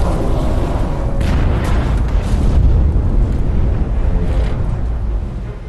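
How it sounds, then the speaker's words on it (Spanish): A wartime torpedo strikes a ship at sea and explodes in a sustained, loud rumbling roar that rolls on for several seconds before slowly easing off. "Poco después, el torpedo de Henke da en el blanco."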